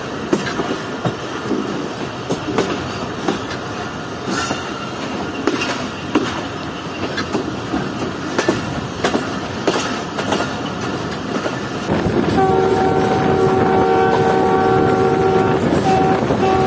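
The Jaffer Express rolls past on a single-line track, its wheels clattering loudly and close with rhythmic clicks, then a steady tonal hum joins as the cars keep passing.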